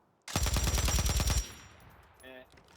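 Rapid automatic gunfire in the video game Warzone, a loud sustained burst of about a second with dense repeated shots, followed by quieter in-game sounds and a brief electronic tone.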